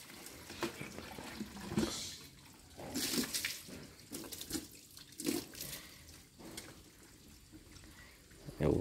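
Water splashes and runs off a motorbike being washed outdoors, in uneven gushes and trickles close by, while people talk over it.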